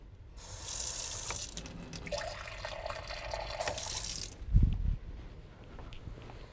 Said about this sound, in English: I'm gonna go ahead and add a little bit more water to that and put the lid on and just let that cook.